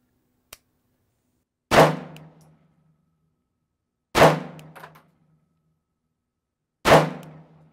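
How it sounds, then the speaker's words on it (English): Pistol gunshots at an outdoor shooting range: three sharp, loud single shots spaced a couple of seconds apart, each with a short decaying ring, plus a faint click just before the first. "let's shoot on that right side"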